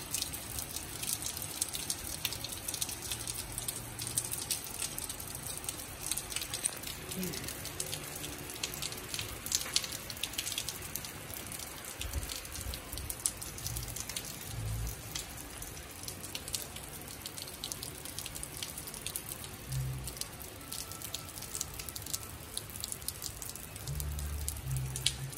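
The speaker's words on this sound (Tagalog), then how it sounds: "humuulan na naman dito sa akin sa Cavite." Steady rain patters and drips on surfaces, a continuous soft hiss with occasional heavier drops, with no talking.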